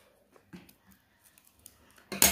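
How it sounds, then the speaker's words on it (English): Scissors cut through a small rolled piece of paper, giving a few faint snips and clicks, then one louder close crunching cut at the end. "Now use the scissors and cut at the bottom"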